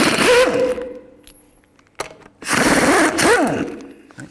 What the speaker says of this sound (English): I'm going to use a 21mm socket and remove the lug nuts